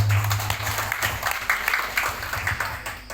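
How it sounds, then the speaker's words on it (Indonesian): Audience clapping at a community gathering in Ploso, Jombang, a steady spread of applause filling the room for a few seconds, moderately loud and without speech. "Tepuk tangan untuk kita semua."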